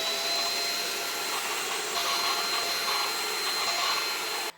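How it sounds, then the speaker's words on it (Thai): A PerrySmith Extreme Series X10 compact vacuum cleaner fitted with its brush head runs with a steady, close, high-pitched motor whine and airflow rush, holding constant before cutting off abruptly at the end. "หรือฝุ่นตามมุ้งลวดเนี่ยเราก็จะใช้หัวแปรงเนี่ยดูดได้เช่นกันครับ"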